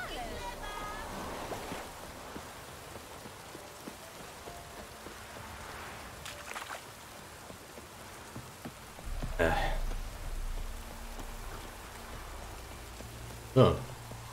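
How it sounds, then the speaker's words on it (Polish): Steady rain in the video game The Witcher 3: Wild Hunt patters throughout in a soft, continuous hiss, with a few brief louder thumps and clicks breaking through. "Oczywiście znowu pada."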